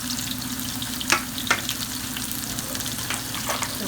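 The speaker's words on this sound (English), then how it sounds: "So first with the garlic and onion, you're going to just saute that all around." Garlic and onion sauté in hot oil over high heat, a constant crackling sizzle with a few sharp spatula scrapes and stirs cutting through, close by.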